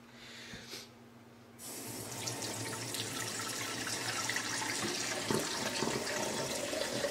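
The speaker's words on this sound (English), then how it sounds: "I like to set the bowl on there so it rocks a little bit when the water's hitting it" Tap water runs into a bowl in a home kitchen, a short burst then a pause before a steady splashing stream starts and continues, close and moderately loud, with light clinks in the flow.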